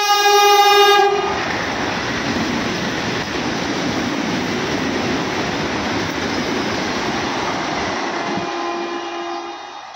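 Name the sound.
train arriving with horn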